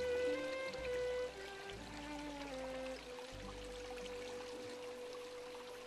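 A backyard waterfall pours and splashes steadily, a continuous rushing flow with a soft hiss, joined by a faint low hum and tonal notes.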